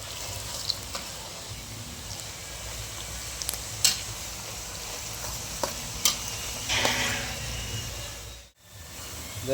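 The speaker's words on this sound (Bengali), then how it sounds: "আমাকে বেরেস্তাটাকে ভালো করে ভেজে নিতে হবে।" Onions frying slowly over medium heat for biryani beresta, a steady close sizzle with occasional stirring clinks and scrapes of the spatula, uninterrupted by any voice.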